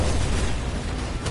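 A loud, rumbling blast fills the clip, a heavy boom with a long, noisy decay, an explosion in the video game Destiny.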